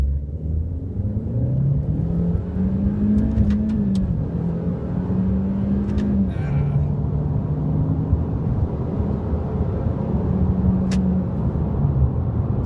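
A Chevy Cruze LTZ with a 1.4-liter engine accelerates hard from a standstill toward redline, its engine note climbing steadily through the gears with brief dips at shifts, a loud continuous drone heard from inside the car.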